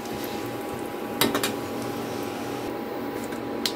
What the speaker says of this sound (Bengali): এখন ফোড়নটাকে আমি 1 থেকে 2 সেকেন্ড একটু ভেজে নেব।